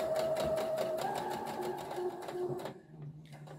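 A sewing machine stitches forwards and back through fabric, running in a fast, close mechanical chatter that shifts pitch slightly mid-run before stopping, with a faint hum afterwards.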